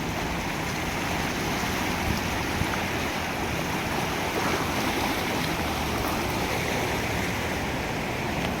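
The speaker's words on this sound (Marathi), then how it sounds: "हे पाहू शकता अजूनही त्याच वेगाने" Fast floodwater of the swollen Sina river rushes past in a steady, unbroken roar, broadband and continuous with no voices over it.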